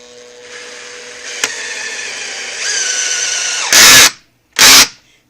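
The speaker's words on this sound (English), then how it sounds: "now the thing I like about this Makita driver, this Makita, this is the drill" A Makita drill driver on a garden box build gives a steady whining hum, then two short, loud, close bursts of motor whir with a brief pause between.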